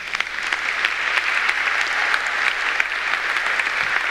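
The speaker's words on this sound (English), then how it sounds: "You can welcome them with applause if you'd like." A church congregation applauds to welcome new members at a traditional worship service, with steady, dense clapping filling the room throughout and no voices over it.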